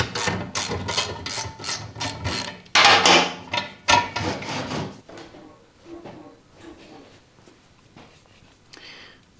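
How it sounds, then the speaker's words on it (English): A jack is lowered and pulled out from under a Harley-Davidson Electra Glide M8, giving a run of rapid ratcheting clicks followed by clanks and scraping metal, then quieter knocks, close by. "just take the jack out completely and put the full weight of the bike on the wheels"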